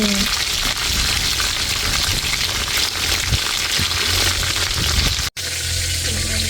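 Spicy chicken wings fry in hot cooking oil, giving a loud, continuous sizzle with a brief dropout near the end.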